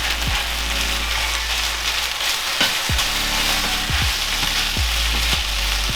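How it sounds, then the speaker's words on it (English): Egg and noodles fry on a hot hibachi griddle with a loud, constant sizzle, while a spatula scrapes and stirs through them in several distinct sweeps. "Go ahead and stir the egg up in the noodles."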